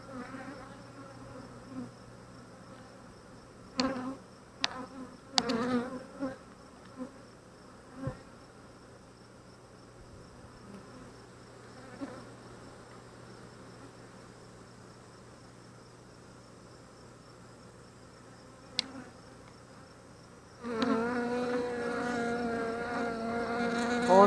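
Bees hum in a steady, continuous drone around an open Flow Hive during an inspection, with scattered clicks of frame handling and the buzzing swelling louder and closer in the final seconds.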